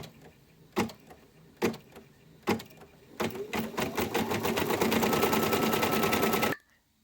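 An in-the-hoop embroidery machine stitches a round of a Christmas banner, with a few separate needle thumps first and then a fast, continuous, even mechanical chatter that stops abruptly.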